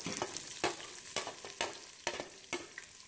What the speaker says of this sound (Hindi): तो मैं अपने प्याज डालने लगी इसमें